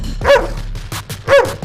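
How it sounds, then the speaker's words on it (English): Dogs barking, two loud close barks about a second apart with smaller yips and growly sounds between them, over a low background rumble. "All right, the dogs are barking, Robert."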